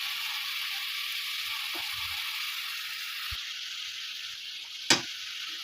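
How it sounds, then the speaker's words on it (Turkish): Minced meat and onions sizzle steadily in a frying pan, a constant close hiss with a few soft scrapes of stirring and a sharp clack near the end. "Kıymalarımla soğanımı güzel bir karıştırıyorum."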